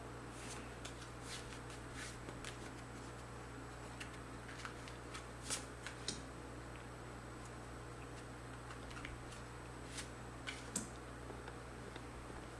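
Tarot cards being shuffled and drawn during a reading, heard as soft continuous rustling with scattered light card taps and flicks, faint and close over a low hum.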